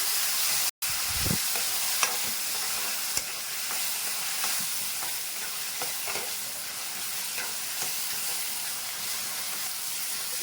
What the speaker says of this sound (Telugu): టమాటా అంతా మనం వేసేస్తాం టమాటా కూడా మనకి బాగా మగ్గిపోవాలి